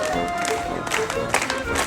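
A crowd at an outdoor street show in Galway, Ireland claps along, loud and uneven, with voices and street noise mixed in underneath.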